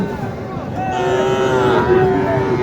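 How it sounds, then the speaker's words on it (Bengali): Under a continuous hum of market chatter, a Sahiwal cow at a cattle market gives a long, level moo that runs steadily through the second half. "এই যে একটা ভাই নিয়ে আসছে একটা গরু দেখি"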